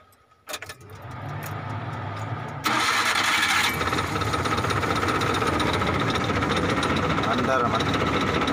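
A small Suzuki F6A multicab engine cranks and catches, then runs steadily and loudly with a rattling, clattering idle that continues to the end.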